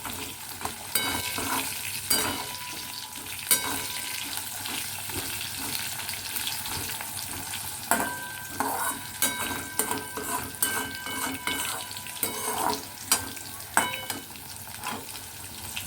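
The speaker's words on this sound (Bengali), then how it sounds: "গাঁটি কুচিগুলো আলুগুলো মোটামুটি একটু ভাজা হয়েছে" Chopped taro and potatoes frying with spices in a pan, giving a continuous close sizzle broken by repeated scraping and stirring clatter and occasional utensil knocks.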